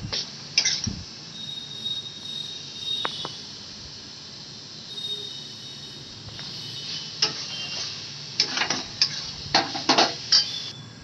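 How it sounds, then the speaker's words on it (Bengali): A utensil scrapes and clinks against a pan while googli snail curry is stirred, with sparse knocks early and a cluster of sharper metallic clatters near the end over a quiet background. "বেশ ভালো করে নাড়াচাড়া করে নিচ্ছি।"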